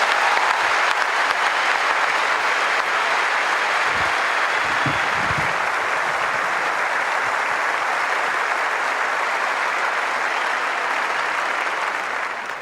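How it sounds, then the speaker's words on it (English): Sustained, loud applause from a large tennis crowd at the 2004 Australian Open women's singles trophy presentation, steady clapping filling the whole stretch without a break. "Once again, a huge round of applause for our runner-up, Kim Clijsters"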